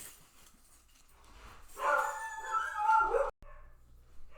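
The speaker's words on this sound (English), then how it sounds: "the dogs went crazy" Dogs at home bark and yelp excitedly in the background, a short burst of high, wavering yips and barks that is fairly faint, then cuts off abruptly.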